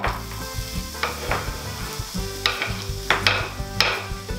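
Onion, garlic and rice fry in a pan with a lively sizzle, broken by sharp scrapes and clatters as the mixture is stirred several times, over a low hum, with no voices.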